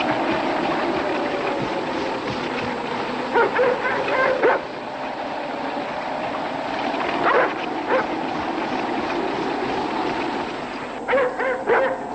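Tired sled dogs in the wild barking and yipping in short clustered bursts over a steady background rumble, with whimpers between the louder calls.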